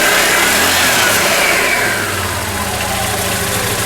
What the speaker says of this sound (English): Well, when we rev it up a little bit,